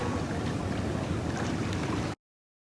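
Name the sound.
Inle Lake boat paddled by foot, water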